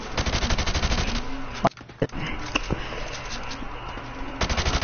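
Rifle fired from the hip in Call of Duty Modern Warfare Remastered, with loud rapid automatic bursts at the start and end and a couple of single sharp shots between, over game background noise.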